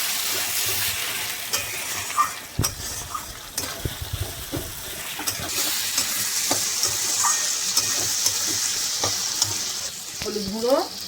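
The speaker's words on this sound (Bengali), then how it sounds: "আদা রসুন আর টমেটোটা দিয়ে একটু এবারে ভালো করে কষাবো" Ginger, garlic and tomato sizzle and fry in a pan as a spoon stirs and scrapes them, with a steady crackle, occasional clinks and scrapes, and a brief splash of liquid near the end.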